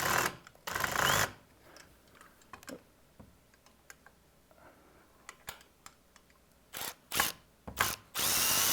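A power drill with a Phillips bit drives a bumper bolt while a wrench holds the nut, in short loud whirring bursts near the start and end. Light tool clicks and handling noises fill the quieter stretch between.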